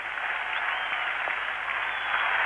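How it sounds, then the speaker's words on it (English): Crowd cheering at a cricket ground during the 1987 World Cup match between England and West Indies in Jaipur: a dense, continuous roar of applause and cheering, steady and full throughout. "Great cheer on the ground."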